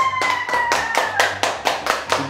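Hands clapping in a steady rhythm, about eight loud, crisp claps in a row close by, with a voice briefly carrying underneath during a drawing-on-the-body guessing challenge.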